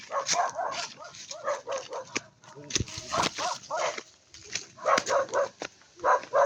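A dog yips and barks in quick, repeated bursts, close by, mixed with whimpering sounds and a person talking.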